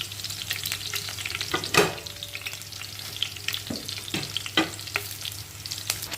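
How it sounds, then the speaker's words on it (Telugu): Curry leaves and chillies frying in hot oil for a fish curry, a close crackling sizzle with several sharp scraping stirs of a spoon against the pan. "కరివేపాకు మిరపకాయలు కూడా వేసుకుందామండి"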